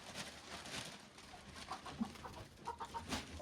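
A hen clucks softly a few times in a winter homestead coop, faint and mixed with rustling and low background noise.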